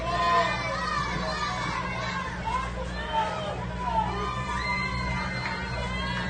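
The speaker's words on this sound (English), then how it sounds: "Crowd sensing a little bit of urgency out there." Spectators at a youth football game for 8- and 9-year-olds shout and cheer steadily, a dense babble of adult and children's voices that stays loud for the whole stretch.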